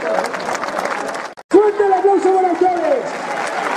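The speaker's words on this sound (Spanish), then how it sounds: "¡Fuerte el aplauso para ustedes!" An audience at a folk group's performance in Montanchez applauds loudly and continuously in a dense crowd roar, while someone shouts over the clapping.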